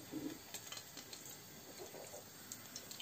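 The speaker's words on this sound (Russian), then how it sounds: "Вот жарится чеснок." Garlic frying in olive oil with a sprig of rosemary, a faint steady sizzle and crackle in a pan with occasional light utensil clinks, heard alone without talk.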